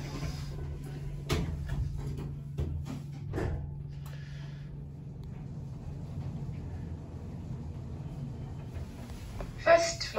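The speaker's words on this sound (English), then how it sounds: "Door closing." A Kone Ecodisc lift's doors slide shut in a Dublin shopping centre, with a few soft knocks and thuds over a low, steady mechanical hum that fades into quiet.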